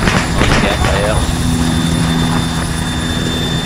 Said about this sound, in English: Is there enemy chopper behind us?